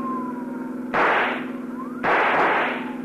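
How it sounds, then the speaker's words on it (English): Two sharp, loud rifle shots crack about a second apart, each trailing off in a noisy decay over a steady car engine hum and a wailing police siren. "See if you can use that rifle, Dollar."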